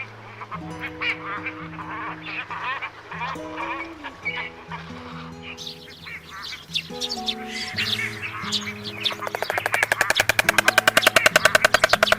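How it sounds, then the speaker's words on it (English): A dense colony of cormorants calls nonstop with loud honking, croaking cries, rising to a rapid, rattling clamor near the end. "deafened by the clamor of the cormorants"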